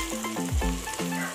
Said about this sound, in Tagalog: Alo-aloin na naman natin hanggang yung kamatis malambot na.